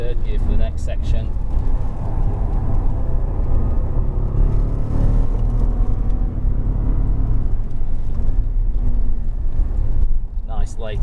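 A Jaguar XJR575 runs hard in fourth gear at about 85–90 mph on a race track, with a loud, constant engine and road roar inside the cabin while someone talks over it.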